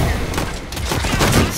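Quick successive bow shots in the vampire combat game Nosgoth, thrown over a dense, loud backdrop of battle noise and impacts with no clear pauses.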